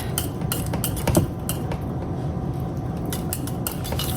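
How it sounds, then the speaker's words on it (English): A whisk rhythmically clinks and scrapes against a bowl as butter is beaten into chocolate pie filling, with quick repeated metallic taps heard close up. "So that's 3 tablespoons of butter that we are going to whisk into here for extra goodness."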